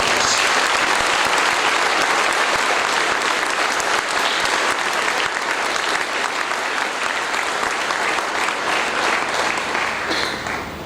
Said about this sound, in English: Shall we give Dr. Naveen a big round of applause